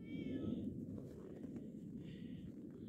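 A cat meows outdoors on a snowy, frosty January day. Two short, faint meows come at the start and again near the end, over a low background rumble.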